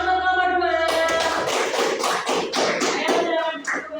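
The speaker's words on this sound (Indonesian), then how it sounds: "Tepuk tangan untuk kelompok 2" A class group applauds at a teacher training session, with a burst of rapid, uneven clapping from many hands that starts after a sustained voiced tone and carries on under it, fairly close and lively.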